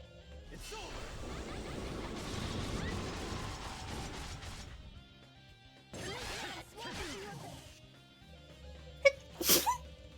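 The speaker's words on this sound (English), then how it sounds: "Don't you know what sneezes are?" A single loud sneeze bursts out near the end, sharp and close, following stretches of other noisy activity and possible talk.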